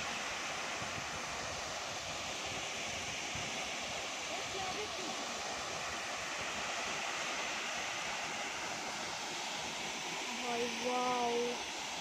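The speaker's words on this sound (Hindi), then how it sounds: "ये वाटरफॉल है।" A fast-flowing waterfall roars in a broad, steady wash of rushing water that runs unbroken throughout and sits fairly soft and distant. A brief tonal sound rises near the end.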